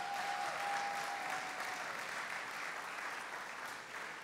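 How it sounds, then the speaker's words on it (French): A church congregation claps in sustained, even applause that holds at a fairly constant level for several seconds before tapering slightly, with no speech over it. "Est-ce que vous voulez bien l'applaudir?"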